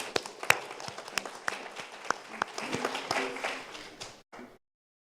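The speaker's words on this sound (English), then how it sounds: "Let's give them a round of applause." An audience at a Honolulu City Council session applauds with steady mixed clapping and a few sharper close claps, tapering off before cutting to silence.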